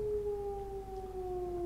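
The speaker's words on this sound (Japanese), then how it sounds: "ノエ、あのサイレンが聞こえるだろう" A horror video game siren wails as one steady, slowly falling tone, heard alone and fairly faint over a low background hum.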